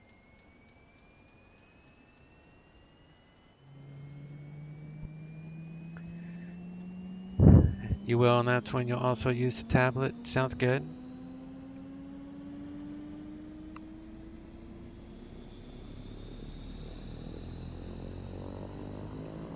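Engine 1 of a King Air 350 turboprop starts in the X-Plane 11 flight simulator, a rising whine with a steadily climbing tone under brief clicks and chatter, as a person talks over it.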